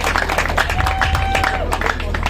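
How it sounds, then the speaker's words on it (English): A crowd at a Kenya–USA softball launch event claps for volunteer coach Chifu, steady close applause with cheering voices and chatter mixed in, plus a brief whistle-like tone. "Let's give him a round of applause."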